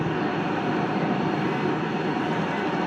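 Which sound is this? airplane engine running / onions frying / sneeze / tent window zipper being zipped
airplane engine running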